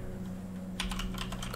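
Computer keyboard typing, a quick burst of crisp key clicks close by over a steady background hum, with no talking.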